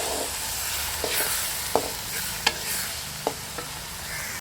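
A red chili, tomato and garlic chutney paste is stirred in a hot pan, giving a soft sizzle with several sharp spoon scrapes and taps against the pan at irregular intervals, close by.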